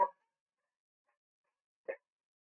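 Two short barks from a dog, one right at the start and another about two seconds later, with silence in between.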